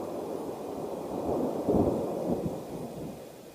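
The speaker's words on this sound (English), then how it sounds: "That's thunder." Low, distant rumble of thunder swelling midway and then fading, under a faint steady background hiss, with no one talking.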